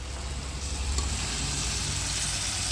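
Potato and cauliflower pieces frying in a hot pan give a steady, continuous sizzle with a low rumbling hum beneath, close and even throughout with no voices.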